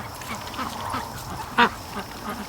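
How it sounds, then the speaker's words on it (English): A single short duck quack from a pet duck heading toward a swamp, sounding once in the middle over a busy outdoor background hiss. "Oh, there's Marble Duck."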